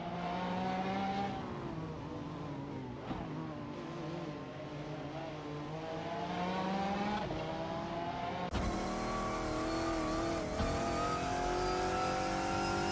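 Race cars roaring around a track in a racing simulator game, with AI supercars at the Forli Ring, engines droning and shifting pitch continuously with a sharper swell near the end, no talking.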